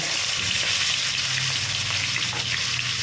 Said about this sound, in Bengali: তেলটা গরম হলে মাছটা দিয়ে দিচ্ছি।